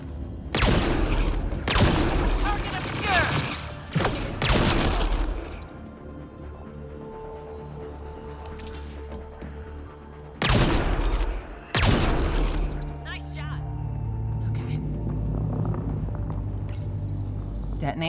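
Video game gunfire comes in loud, sharp bursts, several shots early on and another pair later, separated by quieter ambient stretches with a voice speaking now and then.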